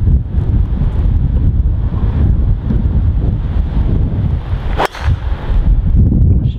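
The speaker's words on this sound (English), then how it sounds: "Wind into slightly off the left" Steady wind buffets the microphone on an open golf course, a loud continuous low rumble of gusts that briefly drops out near the end, with no voices.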